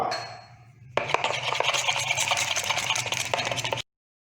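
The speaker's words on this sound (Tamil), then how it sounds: "இனி இதை நம்ம நல்லா மிக்ஸ் பண்ணி விட்டுறலாம்." Crushed cardamom and turmeric powder being mixed in a bowl: after a quiet opening, a spoon scrapes and clinks steadily and briskly against the bowl for about three seconds, then stops abruptly.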